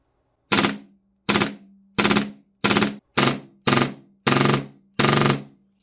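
An upgraded Action Army AAP-01 airsoft pistol fires eight sharp, close, loud shots in quick succession, slightly irregular in spacing, with near silence between them.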